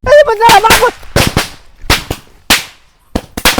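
Diwali firecrackers go off in a series of sharp, loud bangs with short gaps between them, and a voice is heard at the start.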